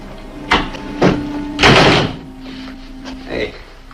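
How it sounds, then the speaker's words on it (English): Wooden door in an Old West setting being closed, a few thuds and knocks ending in a heavier shut, with people talking over it. "You could start by closing that door."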